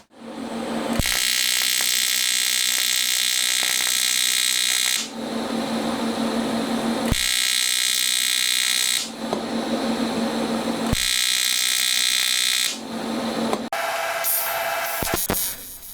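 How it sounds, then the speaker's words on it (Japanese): Pulse welder builds up a bead on a Honda Monkey engine part during a 4-cylinder 124.4cc build, giving loud steady buzzing arcs in four long bursts of about four seconds each, with short quiet gaps and a clunk near the end. "溶接機のパルス機能を使ったり使わなかったりといろいろ試してみます"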